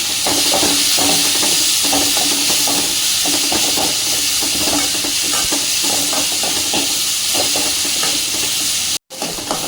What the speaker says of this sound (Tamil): அதையும் போட்டு நல்லா வதக்கிக்கலாங்க.